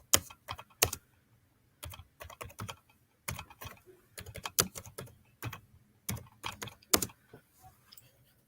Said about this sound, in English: Who's beating up their keyboard?